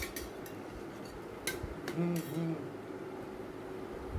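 A spoon stirring garam masala into chicken curry in a metal pot gives a few quiet clinks and scrapes against the pot, with a soft sizzle underneath.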